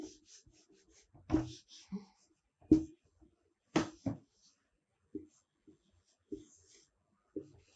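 Chalk or marker taps and scrapes across a classroom board in short, separate bursts with quiet pauses between them, close and fairly faint.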